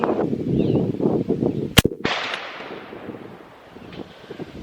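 A CMMG .308 rifle fires one sharp, loud gunshot outdoors, its blast trailing into a long, fading echo, with wind rumble and shuffling noise before it.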